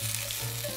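Bacon frying in a pan on the stove, a steady, close sizzle with soft crackle running evenly throughout.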